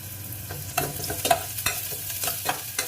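Spoon scraping and stirring monggo with pork leg in a hot pan, repeated clattering strokes in an uneven rhythm over a soft sizzle, close and alone.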